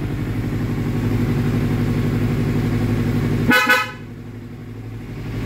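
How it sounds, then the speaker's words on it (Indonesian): A short BMW E46 car horn blast, fitted to a Yamaha MT25 motorcycle, sounds over a steady engine rumble, a single honk lasting under half a second before the idle continues. "saya udah pasang klakson punya mobil BMW. Ya, ini klaksonnya. Ini kepunyaan mobil BMW E46."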